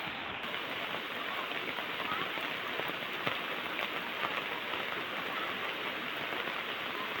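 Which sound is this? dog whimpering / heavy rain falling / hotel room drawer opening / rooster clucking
heavy rain falling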